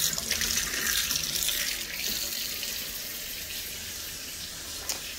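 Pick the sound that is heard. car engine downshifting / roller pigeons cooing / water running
water running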